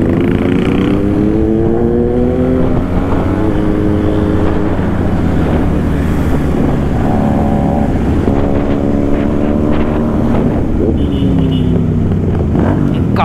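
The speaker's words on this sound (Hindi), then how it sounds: "Not used to these kind of silencer sounds." Superbike exhausts roar at a motorcycle meet-up in Pune, loud and close. Engines rev repeatedly with rising and falling pitch over a continuous rumble.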